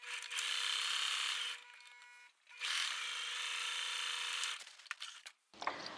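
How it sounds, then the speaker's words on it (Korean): A sewing machine stitches a blouse collar in two long, steady whirring bursts separated by a short pause, close and fairly loud, ending with brief handling noises. "여기 지금 밑에 부분 남기고 일단 칼라 박아 볼게요"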